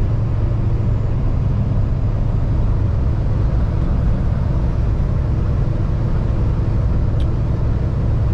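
Steady low road rumble and engine drone from inside a car driving west on Highway 17 near Mattawa, Ontario, loud and constant with no talk.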